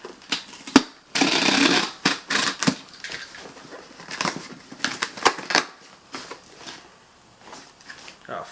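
A cardboard shipping box holding Adidas sneakers is sliced open with sharp scraping and crinkling, one loud dense burst followed by scattered taps and rustles close to the microphone.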